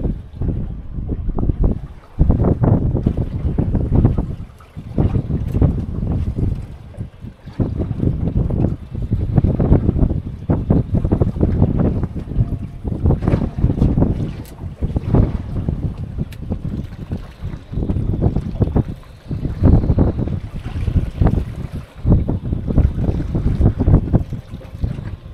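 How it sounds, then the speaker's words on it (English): Strong wind buffets a small Warrior 165 boat at sea off Puffin Island, loud continuous gusting and microphone rumble with surging swells, no voices. "the wind's picked up a little bit and it's a bit rocky at the moment."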